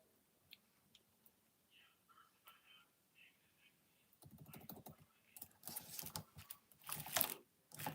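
Typing on a computer keyboard, faint soft clicks at first with a quiet voice, then a denser run of close, rapid keystrokes that gets louder toward the end.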